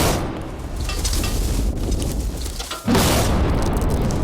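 A button-triggered TNT blast gives a heavy booming roar that rumbles loudly, breaks off briefly, then surges back as a second loud blast, with no voices.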